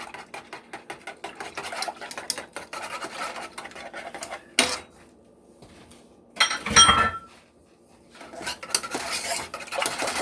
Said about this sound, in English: We're going to dump that in, whisk it around.